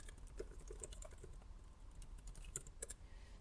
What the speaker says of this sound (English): Python 3 manage.py create super user. Hit enter.